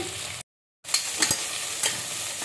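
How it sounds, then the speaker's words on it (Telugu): Mutton pieces frying in a pan for mutton curry give a steady close sizzle with a few stirring scrapes, broken by a brief moment of silence partway through. "బ్రౌన్ కలర్ వచ్చేదాకా ఫ్రై చేసుకోవాలి"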